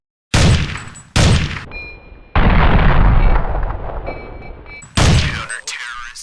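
M4A1 rifle fire in Counter-Strike 1.6, loud close shots: two separate cracks, then a longer burst that fades, then one more sharp shot.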